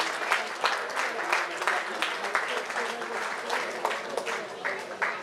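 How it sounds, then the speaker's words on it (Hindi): Audience applause at a vigilance awareness awards ceremony, a steady burst of many hands clapping close and loud, with crowd murmur and a speaking voice mixed underneath. "तालियां बजनी चाहिए इन लोगों के लिए"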